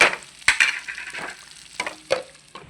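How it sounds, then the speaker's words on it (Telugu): Okra tipped into hot oil in a pan and stirred for a catering-style fry, with bursts of crackling sizzle and clattering spatula scrapes, close and without talk. "ఇప్పుడు బెండకాయలు వేసేద్దాం ఒకసారి తిప్పుదాం"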